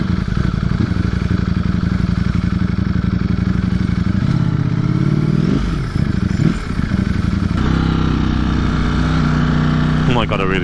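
A 2020 Ducati Streetfighter V4 super naked motorcycle being ridden, its engine a loud, steady close-up drone throughout, with pitch swells and dips in the middle as the throttle changes.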